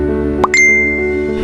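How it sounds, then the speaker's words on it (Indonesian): A phone notification sounds as a quick two-tone ding, with a short rising chime followed by a clear sustained tone that fades, close and distinct over a steady background hum. "Tiba-tiba ada notifikasi masuk."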